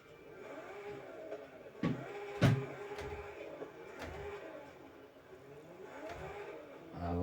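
Car engine in the racing game Forza Horizon 5, a steady mid-level drone with rising and falling pitch sweeps and a couple of brief louder bursts, heard alone without talk.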